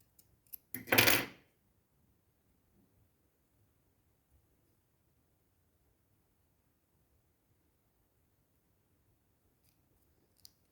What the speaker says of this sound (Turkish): Böyle bu ipi de kesin.